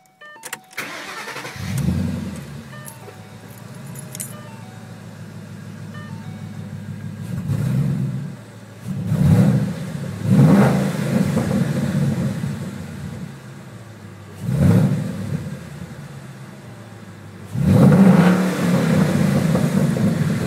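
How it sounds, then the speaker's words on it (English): A 2012 Mustang 5.0 fitted with a Flowmaster Hushpower 3-inch catback exhaust fires up and idles with a deep rumble, then gives several sharp throttle blips that swell and drop back, loud and close. "a sound clip of the Hushpower Flowmaster 3-inch catback exhaust system for the"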